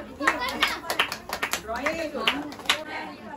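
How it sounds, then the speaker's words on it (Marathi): Children clapping in a scattered burst of quick claps at close range, mixed with lively children's voices talking over them. "टाळ्या वाजवा रे"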